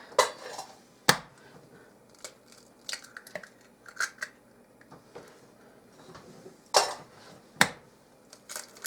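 Eggs are cracked into a bowl for coconut pie batter, with several sharp cracks and clicks scattered between softer taps and handling sounds, close and fairly quiet.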